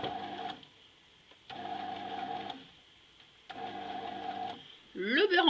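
A bread machine running its bread program hums in bursts of about one second separated by pauses, a repeating motor whir of even length, with a louder rising whine at the very end.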